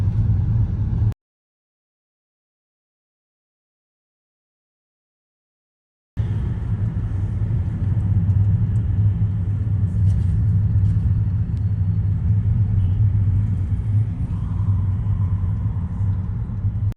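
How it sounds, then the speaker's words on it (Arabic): Street traffic in Istanbul gives a steady low rumble of cars and engines, close and continuous, after a short stretch of total silence. "فكت الزحمة شوي أخيرا."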